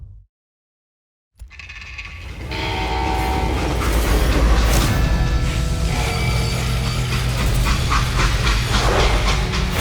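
Train in the video game Call of Juarez: Gunslinger rumbles in after a brief silence, its wheels clattering and a horn-like tone sounding as the loud, steady roll of the cars continues.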